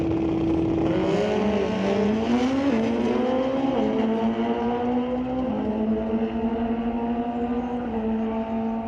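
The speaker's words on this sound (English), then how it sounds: "Clean launch for both drivers, and it is Steve Miller who lights up the win light" A 2006 Suzuki 1441cc and a 1974 Kawasaki drag bike launch side by side at an NHRA drag strip, their engines rising in pitch through the gears with a loud, sustained, slightly distant roar.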